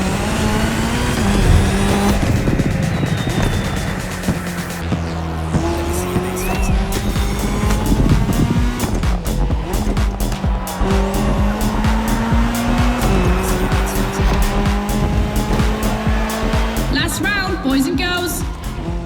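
Rally cars race in The Crew Motorfest video game, including an Audi S1 EKS RX Quattro and a Ford Puma Hybrid Rally 1, with engines revving through repeated gear shifts, tires squealing and skidding, under continuous commentary.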